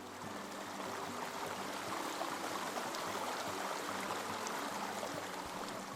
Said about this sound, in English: The creek hummed softly.